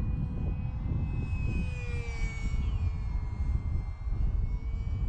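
UMX Timber RC model airplane with a turbo setup on 3S, its electric motor held at sustained full throttle, giving a steady loud whine with a high tone that drifts slightly, running alone without talk.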